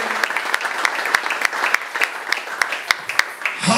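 A church congregation claps and cheers in acclaim of Jesus, with loud, close individual handclaps standing out over a busy, continuous round of applause that runs the whole time.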